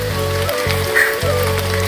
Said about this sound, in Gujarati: ધીરે ધીરે વરસાદ બી ચાલુ થઈ ગયો